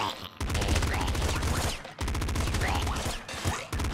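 Rapid pop gun fire in the video game Nuclear Throne, dense continuous bursts of gunshots with explosions, loud and near, broken by two brief gaps.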